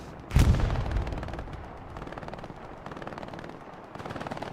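Machine gun fire in the Hell Let Loose video game on the Foy map: a sharp, loud opening burst gives way to sustained rapid automatic fire and distant gunfire that roll on densely throughout.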